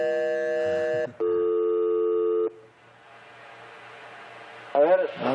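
A telephone handset goes back on the hook after steady tones and busy-signal beeps from the line, followed by quiet background noise and a voice at the end.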